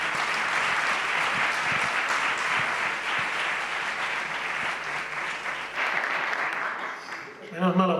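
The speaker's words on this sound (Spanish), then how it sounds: "Un aplauso para Agustín." A hall audience applauds Agustín at a book presentation and talk, sustained dense clapping for several seconds that thins near the end as voices and a brief sound come in.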